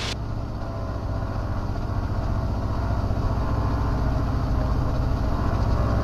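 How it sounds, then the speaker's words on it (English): A T-6 Texan aircraft's radial engine held near 1900 RPM for a magneto check, a loud, steady, rumbling drone heard close up from the cockpit, continuous and unbroken for the whole stretch. "I'm going to ease the power back for 1900 RPM, and I'm going to do a magneto check."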